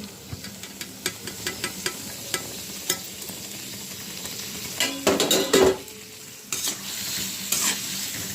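Potatoes and pointed gourd frying in spice masala in a pan, a soft steady sizzle broken by repeated scraping and stirring clatter, with a few louder utensil knocks toward the end.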